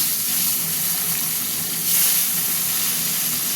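Loud, dense sizzling of fish pieces frying in oil, a continuous hiss that swells briefly midway, heard up close with no voices.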